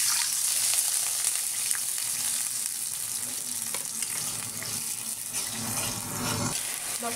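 Ginger, onion, cumin and spice pastes sizzle steadily in hot oil, a continuous bright frying hiss with faint stirring clinks throughout, close and fairly loud, no talking.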